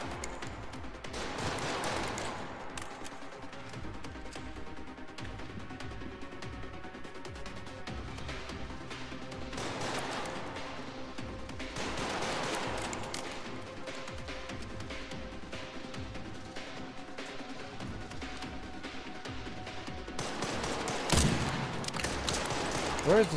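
Bursts of enemy gunfire crackle in rapid volleys through a Resident Evil Requiem firefight set in the RPD, swelling and fading in clusters, with a loud flurry near the end.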